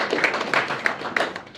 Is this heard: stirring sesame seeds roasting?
no